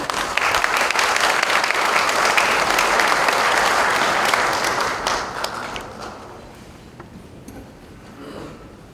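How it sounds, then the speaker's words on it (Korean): A church congregation at a mission society installation and thanksgiving service breaks into warm welcoming applause, dense and loud for about five seconds before thinning into scattered claps and fading. "힘낼 수 있도록 뜨거운 박수로 격려하며 환영하겠습니다."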